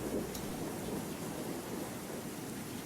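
Steady rain falls as a continuous broadband hiss during an outdoor stop in a storm, with low rumbling texture underneath and no voices, holding at an even moderate level throughout.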